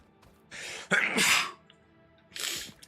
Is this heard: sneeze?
yes